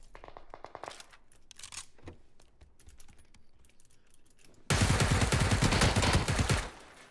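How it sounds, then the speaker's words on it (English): An M16A4 assault rifle fires in the PUBG video game: a long, loud burst of rapid automatic gunfire near the end, after quieter clicks and clacks that sound like keyboard typing. "The M16 A4 assault rifle."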